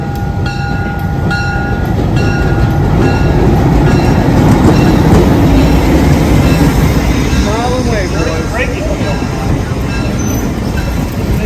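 A passenger train rolls along the tracks through Cuyahoga Valley National Park, heard from on board as a loud, steady rumble with rhythmic clatter and a brief squeal of wheels near the end.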